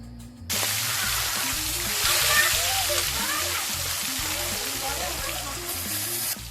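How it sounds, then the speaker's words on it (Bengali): Shol fish frying in mustard oil in a kadai, a bright continuous sizzle that bursts in suddenly and holds steady and loud, with a low hum and faint background voices underneath. "এবার কড়াইতে সর্ষের তেল দিয়ে মাছ ভাজবো"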